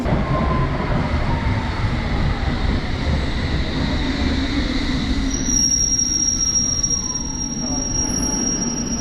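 A London Underground train running on the rails, with a sustained loud rumble and high metallic wheel squeal that rises near the end, heard up close without talk.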